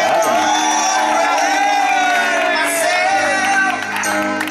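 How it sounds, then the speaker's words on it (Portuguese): Crowd at a birthday celebration for a woman being honored, cheering and whooping loudly and continuously, with bright overlapping voices and shouts filling the whole moment. "Uma salva de palmas para a nossa homenageada."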